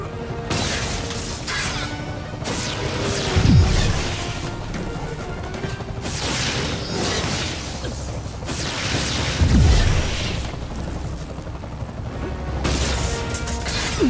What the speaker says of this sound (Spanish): Debo inutilizar los motores del helicóptero.